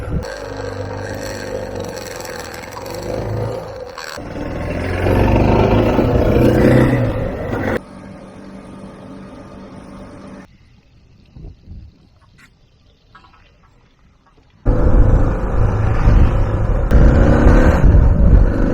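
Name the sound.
motorcycle engine as the rider sets off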